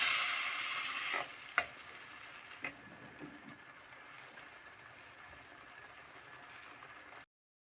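Kunde leaves cooking in a pan, a steady hissing sizzle that fades gradually, with a couple of sharp spoon knocks and soft stirring scrapes early on, close and alone, no speech.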